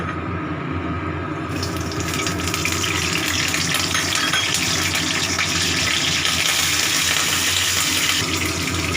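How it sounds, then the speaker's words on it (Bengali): Nigella seeds and whole green chillies hit hot oil in a wok, a sudden loud hiss that bursts in after a second and holds as a steady, close, crackling sizzle. "এবার আমি ফোড়নটা দেব"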